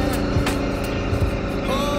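Steady engine hum from a 2023 BMW G 310 GS motorcycle being ridden, continuous and moderately loud, with faint background noise and no clear talk.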